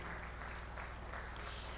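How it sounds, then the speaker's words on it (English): An audience at a diaspora day celebration applauds, a dense steady clatter of many hands heard at a moderate distance, brief and unbroken. "Please clap for our father to be here at 93"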